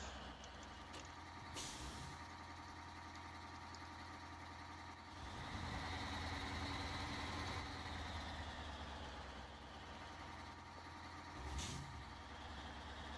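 A heavy truck's engine drones steadily in SnowRunner while it strains through rough ground, its low rumble swelling midway, with short sharp hisses of air brakes near the start and again near the end.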